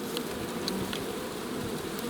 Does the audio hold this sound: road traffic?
no